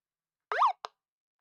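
A short electronic alarm from the Garten of BanBan video game: one warbling, wavering tone about a quarter second long, then a brief second blip, clean and alone against silence.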